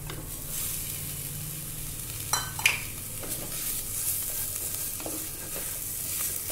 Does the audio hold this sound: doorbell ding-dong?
no